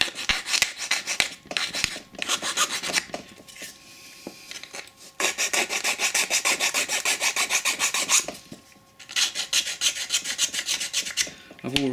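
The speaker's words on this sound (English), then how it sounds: "I'm just using a file for this job" A hand file rasps back and forth over rough edges on a wooden workpiece in steady rhythmic strokes, close and fairly loud, in several bursts separated by short pauses.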